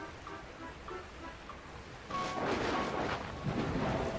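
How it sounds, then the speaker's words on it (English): Rain and rolling thunder in the video game Dragon Quest Builders 2 swell in suddenly after a quiet stretch, turning into a loud, broad wash of storm noise with heavier bursts toward the end. "where did this rain come from?"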